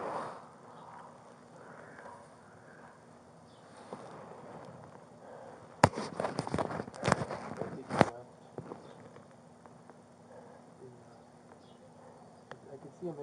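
Gunshots fired during a police officer-involved shooting with a man on a balcony, recorded on a body-worn camera: a sudden cluster of sharp, loud bangs in quick succession in the middle, amid background noise and faint movement.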